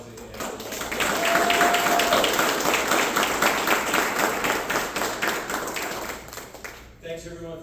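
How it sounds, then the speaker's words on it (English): An audience at an outdoor public art event gives a sustained round of applause, with dense clapping that rises, holds for several seconds, then tapers off before a voice speaks at the end. "I can't go back to my desk without hearing one more big round of applause for Bugsy and"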